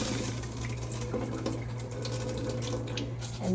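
Water runs steadily from a tap while rice gets its final rinse in a rice cooker pot, a close continuous splashing wash over a low hum with faint shifting knocks and no speech.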